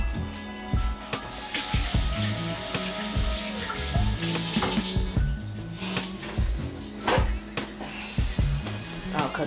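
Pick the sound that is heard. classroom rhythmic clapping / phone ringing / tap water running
tap water running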